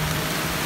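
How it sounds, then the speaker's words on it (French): Rain falls on a sailboat in about 26 knots of wind, making a steady, dense broadband hiss throughout with no pauses or separate drops. "Il pleut."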